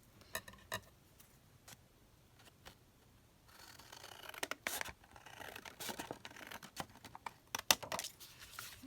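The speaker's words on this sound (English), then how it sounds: "what I'll do is just trim that down" Scissors trimming a scrapbook paper offcut for an over-page pocket, heard as a series of short crisp snips and paper rustles, sparse at first and then busier, close and fairly quiet with no talk.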